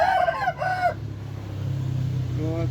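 A rooster crows close by in a short, strained call that ends abruptly, followed by quiet rural background and the start of another crow just as it cuts off.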